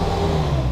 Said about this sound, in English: yep, a little backfire, open headers